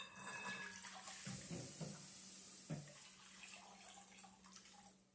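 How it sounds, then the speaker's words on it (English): Tap water streams into a bowl while home-canning cucumber spear pickles, a steady splashing pour that rises and falls, close and moderately loud, with brief bumps of handling and no talk. "you're going to get 4 cups of water and going to add that to the bowl"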